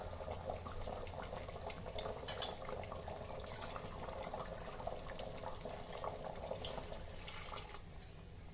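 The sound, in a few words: water poured into biryani pot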